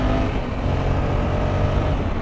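A 2020 Honda Africa Twin CRF1100 motorcycle engine roars steadily and loudly under a twisted throttle, a continuous close rumble with no break and no talk.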